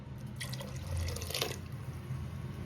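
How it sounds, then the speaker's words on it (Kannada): Water poured from a tap into a cooking pot, a short splashing run of drips and trickles at close range. "ನೀರು ಎಷ್ಟು ಬೇಕೋ ಅಷ್ಟು ಹಾಕೊಂಬಿಡಿ"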